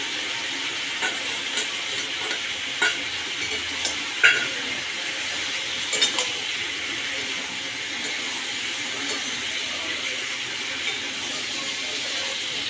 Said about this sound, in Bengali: এবার মশলাটাকে আমি তরকারির মধ্যে দেব, দিয়ে একটু কষবো